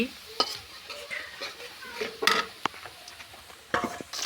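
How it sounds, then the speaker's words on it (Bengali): Chopped onions frying in a pot on a clay stove, light sizzle under irregular stirring scrapes and clinks of a utensil against the pan, close by. "প্রথমে এখানে আমি পেঁয়াজ কুচি কুচিটা ভেজে নিচ্ছি"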